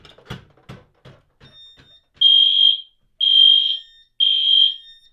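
Fire alarm horns on an EST panel test system, sounding after a pull station is activated: a few soft clicks first, then three loud, steady, piercing horn blasts of about half a second each, evenly spaced and close.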